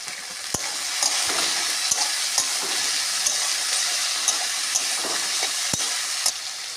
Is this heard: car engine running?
no